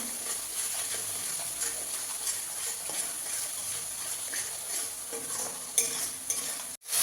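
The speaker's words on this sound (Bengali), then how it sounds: "মশলাটাকে ভালো করে কষিয়ে নেব" Spice paste with turmeric and salt stir-frying in a pan for pabda fish curry, a steady soft sizzle with light scraping stirs throughout and a sharp knock near the end.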